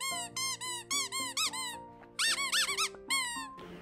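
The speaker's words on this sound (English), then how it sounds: "squeaky toy. It's quite loud, actually." Rectangular squeaky dog toy with a fabric cover, squeezed in quick bursts of loud, high-pitched squeaks, some short and some drawn out, close and alone.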